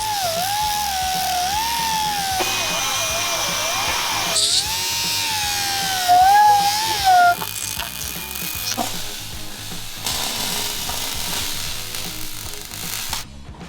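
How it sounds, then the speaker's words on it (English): Angle grinder smoothing a weld flat on the steel frame of an off-road bread van, a steady high-pitched whine that dips and rises as the disc bites, loud and close with no talking. "I'm gonna have to grind that down flat"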